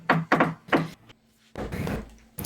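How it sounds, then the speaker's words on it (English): Three sharp knocks in quick succession, close and loud, followed after a short pause by a longer rumbling thud. "like walk out and knock on Tullen's door"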